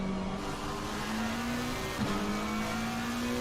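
Bentley and McLaren GT race cars in Assetto Corsa Competizione at Bathurst, engines droning steadily with a falling pitch as they brake, a brief downshift blip midway, no voices.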